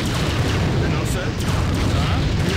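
Artillery firing in the Empire Earth strategy game: a dense, continuous low rumble of booming blasts that runs loud and steady the whole time, with a voice talking over it.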